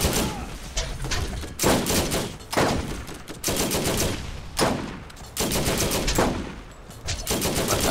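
Bursts of turret gunfire in Borderlands, several separate volleys of rapid shots with short gaps between them, loud and close.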